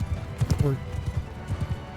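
Horses gallop in Mount & Blade II: Bannerlord, a rapid, rhythmic clatter of hooves close by, with a brief whinny early on and talk mixed in.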